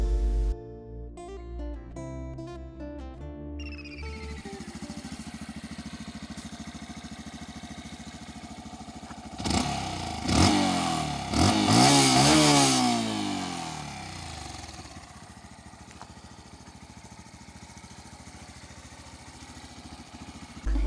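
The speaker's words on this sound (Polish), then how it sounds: "Silnik, który posiada ten motocykl generuje nam 9 koni mechanicznych." A 125cc motorcycle with a 9 hp engine idles, then revs hard several times in a loud burst before settling back to a steady idle, heard close and without talk.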